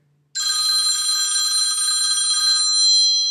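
A cell phone rings close and loud: one continuous bright electronic trill starts abruptly and holds steady for about three seconds, with no talk.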